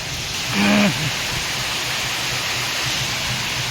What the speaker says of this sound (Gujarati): ધોમ વરસાદ ચાલુ છે